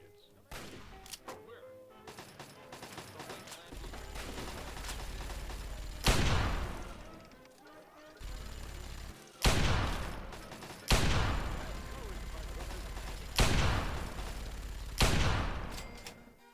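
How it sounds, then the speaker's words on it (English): Heavy Magnum revolver shots from Fallout 3 boom out in a slow run of about five loud, separate blasts, each with a sharp crack and a rolling decay, over game ambience. "I probably just wasted all of my Magnum ammo."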